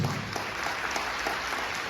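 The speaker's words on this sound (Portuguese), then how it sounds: "Aplauda Jesus que ele é com você" A church congregation applauds in a steady, fairly soft wash of clapping that holds evenly for a couple of seconds without any voices over it.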